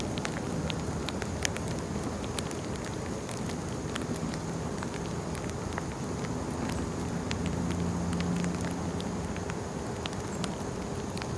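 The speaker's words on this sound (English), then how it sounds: "it started raining here at the park" Light rain falling in a park, a steady soft hiss of drops with scattered sharper taps on nearby surfaces, continuous and even throughout with no voices.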